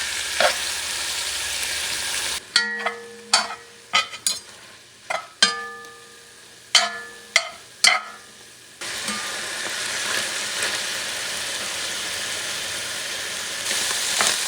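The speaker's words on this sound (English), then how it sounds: "you have to let it brown because camel is lean. So you want that deep caramelization." Lean camel meat for red camel kabsa sizzles and fries steadily in a hot pan, with repeated sharp stirring clatters in the middle of the clip and continuous frying hiss around them.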